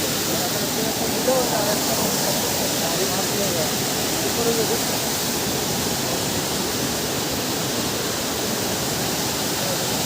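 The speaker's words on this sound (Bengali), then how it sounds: "আসলে পানির যে শব্দ পানির যে আওয়াজ এটা আসলে দারুণ" A waterfall at Rock Garden in Darjeeling roars close by in a steady, dense, unbroken rush of falling water that holds at the same loud level throughout.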